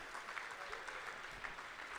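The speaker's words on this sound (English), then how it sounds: "we need to give a massive round of applause to the coaches and the parents" Faint, distant applause from spectators at a bouldering provincials finals event, a steady wash of clapping that holds at an even level throughout.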